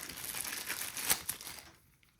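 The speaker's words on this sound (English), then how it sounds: "All in plastic bags, all wrapped up." Plastic bags wrapping auto tools crinkling and rustling up close during unboxing in a busy, continuous crackle, with a sharper crunch near the middle before it quiets to near silence.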